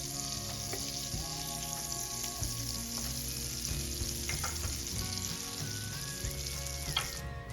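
Blended poblano chile sauce fries in melted butter and oil in a pan, a steady close sizzle and crackle running throughout with a few soft clinks and stirring sounds.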